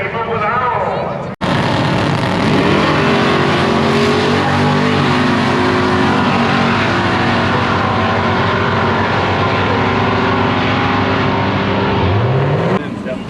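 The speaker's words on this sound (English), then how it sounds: "You get out to the 30 foot, then pull your wheelie." A street race car at a street car takeover event, launching and pulling a wheelie: a loud sustained engine roar that cuts in abruptly and holds for seconds with a rising note near the end, close and dominant over crowd noise.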